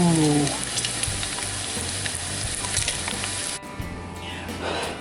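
Bacon frying in a cast iron pan gives a dense, loud crackling sizzle that runs continuously, close up, with a brief drop in intensity near the end.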